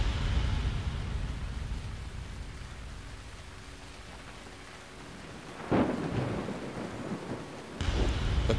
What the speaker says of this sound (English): The soft rumble of thunder in the distance.